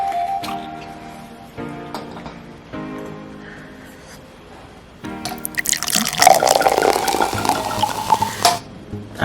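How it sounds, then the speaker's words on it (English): Cupcake wine poured into a glass, a rising liquid gurgle and splash building over the last few seconds after quieter clinks and handling, close and fairly loud with no talk. "I think I poured too much,"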